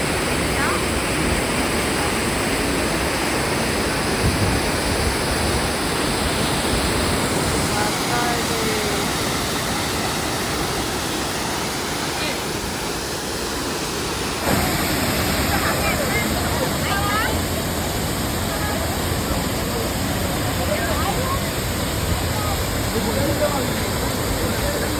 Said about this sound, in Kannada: ಎಲ್ಲಿಂದ ನೀರು ಬರ್ತಾ ಇದೆ